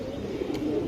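Racing pigeons cooing softly in a loft, a low continuous murmur of coos, faint and close.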